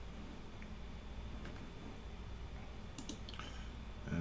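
A computer mouse click or two on a virtual machine dialog, small and sharp near the end over a faint steady hiss, otherwise quiet.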